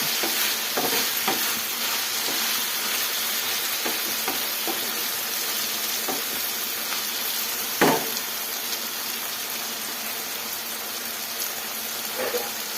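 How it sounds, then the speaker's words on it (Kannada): Eggplant khara frying in oil in a pan gives a constant, close sizzle with occasional stirring scrapes and one louder knock partway through, and no talking. "ಆಯಿಲಲ್ಲಿ ಚೆನ್ನಾಗಿ ಫ್ರೈ ಮಾಡಿಕೊಂಡೆ ಮಾಡಿಕೊಂಡ್ರೆ ಸ್ನೇಹಿತರೆ ಈ ಖಾರ ತುಂಬ ಚೆನ್ನಾಗಿರೋದು"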